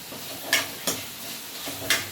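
Ground tomato sautéed with salt in a pan crackles softly beneath four distinct spatula scrapes and clanks spaced unevenly, heard up close without any speech.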